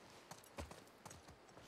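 A horse in The Last of Us Part 2 clip-clops at a walking pace, with several close, distinct hoof strikes in an uneven rhythm and no voices.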